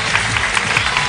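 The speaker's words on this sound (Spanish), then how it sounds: "Este aplauso es para ustedes" Brief burst of studio audience applause on a televised talent show, dense and steady clapping at close range.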